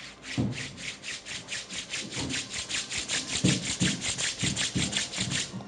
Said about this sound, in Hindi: दोनों पाम्स को तेजी से रब करें।